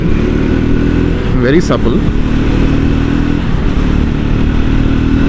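A Triumph Scrambler 400 X motorcycle engine drones steadily while riding, loud and constant under wind noise, with a rider talking over it.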